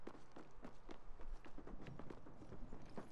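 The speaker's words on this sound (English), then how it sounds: "Multiple footsteps." Several sets of footsteps in a stealth video game, as a steady run of soft overlapping steps and taps at moderate loudness. Irregular scuffs continue from start to finish, with no voices over them.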